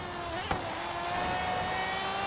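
Ferrari F50GT V12 engine in Forza Horizon 3 holds a high, steady rev near the limiter, a loud whining tone with a brief thump early on and no talk.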